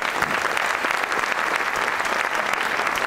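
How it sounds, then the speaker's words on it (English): Audience applause at a memorial event honoring radio host Buck Harris, a dense, steady wash of many hands clapping continuously at close-to-moderate distance without pause. "let's applaud that"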